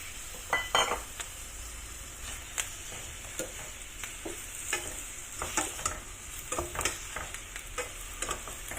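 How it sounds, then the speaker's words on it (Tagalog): Pieces of pork hit hot caramel in a pan and sizzle steadily, with intermittent scraping and stirring clatter from a utensil, fairly quiet and close, with no talking. "Ilagay ko na yung pork."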